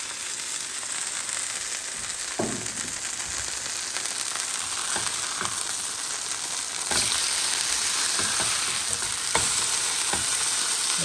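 Breaded keto chicken parm cutlets fry in a pan with a steady, dense sizzle, broken by a few sharp clinks and scrapes of utensils as the batch is turned.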